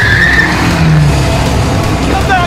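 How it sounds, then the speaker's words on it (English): Car engine running loudly and driving off close by, a dense roar with a brief squeal of tires, in an outdoor setting, with faint voices underneath. "It sounds like our car just started."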